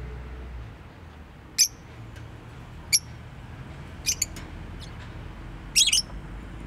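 A pet bird named Lulu gives a few sharp, high chirps and squawks spaced a second or more apart, close by over a quiet room background.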